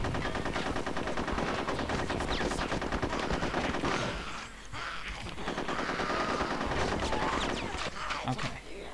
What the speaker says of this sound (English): I'm going to shoot him off right now.